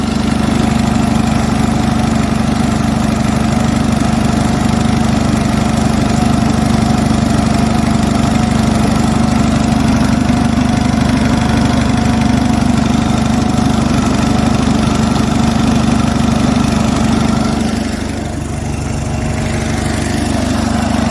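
Onan US military generator running steadily at close range, a loud constant engine drone with a strong low hum, unbroken for about twenty seconds apart from a brief dip near the end.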